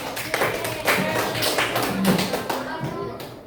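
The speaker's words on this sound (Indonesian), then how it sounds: "Tepuk tangan buat kelompok Bima Sakti" Classroom students applaud a student group after its presentation. The clapping is dense and irregular, with taps and thuds mixed in and a background of students' voices.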